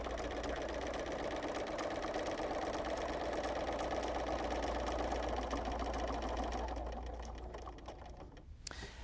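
A sewing machine runs continuously during free motion quilting, a close, even rapid stitching hum that gradually slows and fades near the end, with a faint voice briefly audible.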